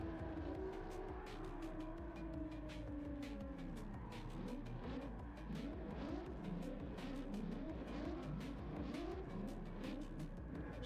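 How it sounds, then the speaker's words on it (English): Race cars at an Apex Street Tour round at Interlagos, including a 2JZ-powered car, rolling down to the starting line with a continuous engine drone and repeated rising and falling revs, fairly close, no talk. "These guys are just making their way down to the line right now."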